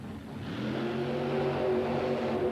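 A monster truck fitted with a brand new supercharged Chevrolet engine revs hard at a 1990 USHRA event in Orlando, a loud, steady, rising engine roar with no talk over it.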